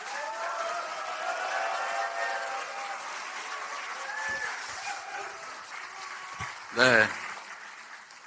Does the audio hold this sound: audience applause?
yes